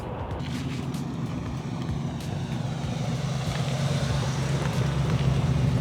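A 1965 Ford Mustang drives by with a low, rumbling engine drone and wind noise. The sound grows gradually louder and stays steady, with no talking.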